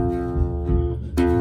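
A single fretted string note rings clearly and sustains, bright and steady, with a fresh attack near the end as the string is plucked again, close and loud with no speech.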